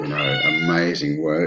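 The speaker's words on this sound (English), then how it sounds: "Sorry, that's my cat." A cat meows under ongoing speech, its cries blending with a talking voice close by.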